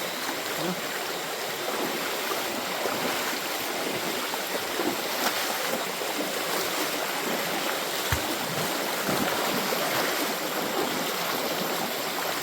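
River water rushes and gurgles over stones in a Konkan stream, a steady close wash of flowing water with occasional splashes and faint voices beneath.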